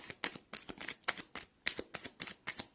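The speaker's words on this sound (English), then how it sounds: "I'm just shuffling." Tarot cards being shuffled by hand, a rapid series of crisp riffling bursts in an even rhythm, close and fairly quiet, with no talking.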